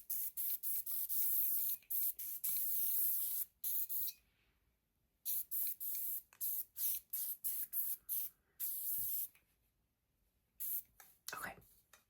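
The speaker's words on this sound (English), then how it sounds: "Okay, I'm gonna spray this." Hairspray hisses in repeated short bursts at a 1985-style hair salon, a dozen or so close spurts of spray separated by brief pauses, with soft whispered voices between them.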